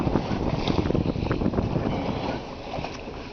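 Strong wind gusting across the microphone aboard a sailboat under way at sea, a steady loud rush with buffeting and water noise, easing slightly toward the end; no talking.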